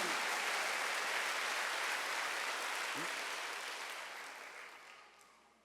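Church congregation applauding during a Wednesday service, a dense, steady wash of many hands clapping that holds loud and then fades away toward the end.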